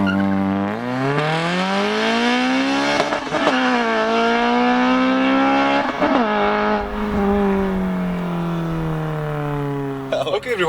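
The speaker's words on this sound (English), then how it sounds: "we're taking corners here, we're taking at speeds" A Honda Civic Type R FN2 is driven hard through corners. Its engine wails loud and close, revving up through high pitches, dropping and climbing again between gear changes and lifts.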